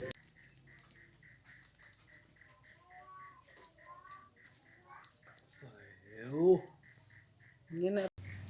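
Crickets at a cricket farm in Randu Batu, Blora, chirp in a steady, evenly pulsed trill that runs throughout. A voice briefly speaks over them near the end.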